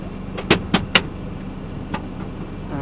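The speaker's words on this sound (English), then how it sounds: "so we pull on the red lever" A red gearbox lever being pulled in the cab of a Unimog U4023, giving three quick mechanical clunks close together, then a softer knock a moment later, over a low steady hum.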